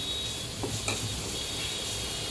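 Chicken curry (Malvani chicken), with salt and a potato added, is stirred in a pot: a soft scrape of the spoon over a faint steady sizzle, with no one speaking.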